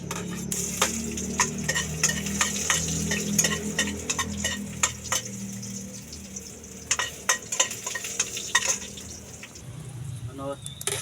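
Garlic sautés in hot oil in a pan, a steady low sizzle with scattered scraping and tapping from a utensil, heard close under a voice talking.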